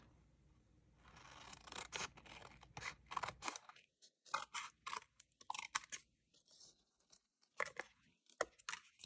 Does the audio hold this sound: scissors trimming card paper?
yes